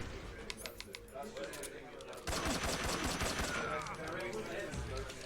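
Sniper rifle fire in Metal Gear Solid 3: Snake Eater, with a few sharp cracks early on, then a sudden dense burst of loud gunfire and clatter that keeps going under the game's ambient sounds.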